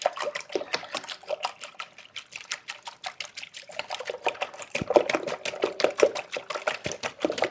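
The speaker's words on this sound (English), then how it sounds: "Just gonna whisk these eggs up just like this." Eggs being whisked in a bowl for a breakfast casserole, with a steady, fast, rhythmic clatter of the whisk against the bowl and a wet, sloshing liquid texture, close and continuous.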